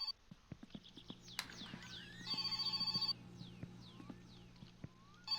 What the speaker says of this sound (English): Am I getting a phone call?